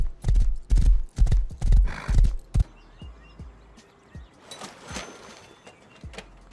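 Video-game horse hooves gallop in loud, rhythmic clip-clop bursts, then slow to lighter, scattered steps with a faint whinny-like sound.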